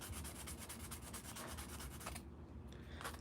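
Sandpaper rubbing epoxy on a Dr. Grip pen, quick, steady back-and-forth strokes close up, pausing briefly before resuming.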